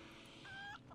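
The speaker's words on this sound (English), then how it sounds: "That was a goddamn chicken" A chicken in World of Warcraft gives a short, sharp cluck over a dense, noisy game background, brief and moderately loud.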